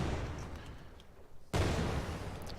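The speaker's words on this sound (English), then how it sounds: "we get the explosion sound, and we get the little emitter of it exploding" A video game explosion sound effect: a sudden loud explosive burst cuts in after a quieter rumbling stretch, then a dense noisy roar that lingers to the end.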